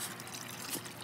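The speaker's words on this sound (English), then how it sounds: "This is all just running water." Running water trickles in a soft, steady, faint hiss for a brief moment, with no other sounds standing out.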